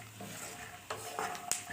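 Peanuts being stirred as they fry in oil for flattened-rice pulao: a soft background sizzle with a few scraping strokes and one sharp clink of the spoon on the pan, faint and close.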